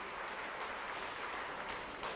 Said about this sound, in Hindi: थोड़ी बहुत ताली तो बजा ही सकते हो आप लोग अपने आप के लिए भी